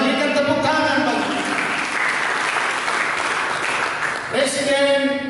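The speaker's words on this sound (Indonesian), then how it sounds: "Berikan tepuk tangan bagi" A church congregation applauding during a sermon, sustained clapping from many people at close range, with a voice speaking over the applause at the start and again near the end.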